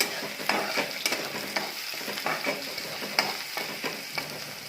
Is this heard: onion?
yes